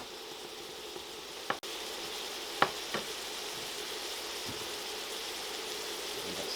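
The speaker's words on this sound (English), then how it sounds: "Let that simmer for a minute." Garlic, butter and olive oil simmer in a pan, giving a steady, faint sizzle with a few brief clicks and taps from the pan.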